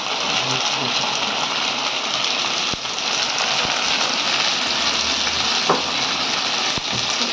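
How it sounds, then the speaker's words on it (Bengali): Dried fish (shutki) frying in hot oil after onions, with a dense, steady sizzle like rain on a surface, near and even, and a few brief scraping knocks. "ছুটিগুলারে এখন তেলে ভেজে নেবে"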